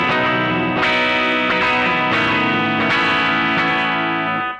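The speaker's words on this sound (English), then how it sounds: "turn on the delay, the reverb, and play." Electric guitar played through a multi-effects unit with delay and reverb: several loud strummed chords ring out one after another, each trailing into echoing repeats and a reverberant wash, with no talking.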